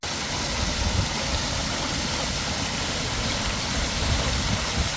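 Steady broadband rush of a waterfall tumbling over a volcano-themed feature at Aqualand water park in Tenerife, a continuous, fairly loud wash of falling water with a low rumble and no pauses.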